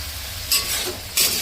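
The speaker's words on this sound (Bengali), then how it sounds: "এগুলো এগুলো হচ্ছে সবজি ভাজা হচ্ছে" Vegetables frying in a home kitchen pan for a chow mein dinner, with a low, steady sizzle broken by two brief, louder bursts of hiss as the food is stirred.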